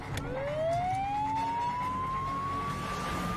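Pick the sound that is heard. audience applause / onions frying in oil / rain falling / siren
siren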